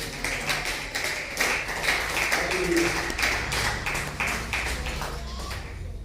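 A church congregation claps together in steady, dense rhythm through a sermon service, the sound filling the room continuously with a faint low hum underneath.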